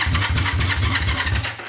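A Honda CB350 motorcycle engine cranks on the starter with the choke on, a rapid rhythmic churning that stays loud and close for a short burst without catching.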